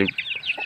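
A brief run of quick, close clucks from free-range backyard Thai village chickens, a few sharp calls in rapid succession, during a morning feeding.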